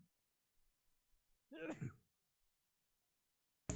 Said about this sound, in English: Ooh, sorry guys, I had to sneeze.